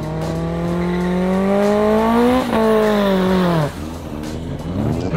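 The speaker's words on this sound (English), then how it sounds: "Okay, Makulaba versus the noisy Opel." Willem's naturally aspirated Opel drag racing car roars loudly and close, its engine pitch climbing steadily through the revs before a sharp drop near the end.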